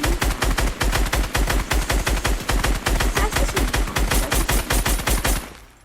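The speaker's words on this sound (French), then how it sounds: "Alors là, j'ai raté quelques balles." Rapid bursts of automatic gunfire from the Fortnite video game, a dense run of loud, evenly spaced shots lasting several seconds before cutting off and fading.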